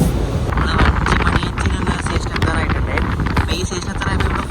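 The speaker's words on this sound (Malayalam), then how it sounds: "നല്ല കാറ്റുള്ള ഒരു സ്ഥലമാണ്" Strong wind buffets the microphone at a deserted railway station in a windy area lined with wind turbines, a loud continuous rumble with gusty swells, while a person talks over it.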